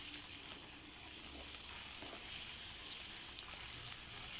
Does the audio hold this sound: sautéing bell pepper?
yes